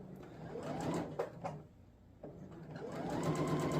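A sewing machine stitches through two layers of shirt fabric in short rapid bursts with brief pauses between runs, close and moderately quiet.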